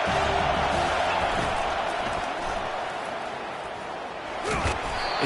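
Stadium crowd at a USC college football game, a loud continuous roar of many voices with a brief swell near the end, under a commentator's voice.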